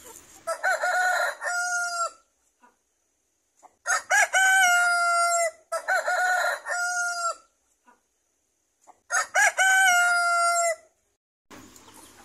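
Thai Duong native free-range chickens crowing in three long, loud bursts with shorter clucking calls between them, each followed by a short pause, with no talk.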